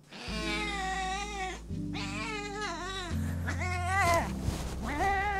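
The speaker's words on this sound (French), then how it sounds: "Il y a mon chat qui dort juste là." A cat meows loudly and close by, several drawn-out meows in a row with rising and falling pitch and hardly any pause between them.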